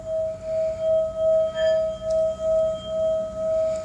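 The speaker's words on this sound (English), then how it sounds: "a singing bowl, which I will demonstrate now." A singing bowl rings as it is passed over garden crystals, giving a sustained pure tone that swells and dips in a slow wavering pulse, quiet and alone.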